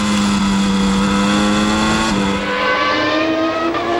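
Formula 1 race cars from the 1993 season howl along the track, a loud sustained high-pitched engine whine that shifts pitch as cars pass, continuous and close with no talking.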